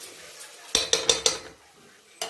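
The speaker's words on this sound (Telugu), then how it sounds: "సరిగా కలుపుకుందాం." A spoon stirs ginger paste and salt in a pan for Telangana-style cooking, striking the metal in four quick clinking scrapes, then a short pause and another clink, close and sharp.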